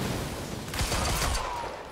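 Gunfire in the video game Quantum Break: a brief burst of loud shots cracking over a dense, noisy game soundscape.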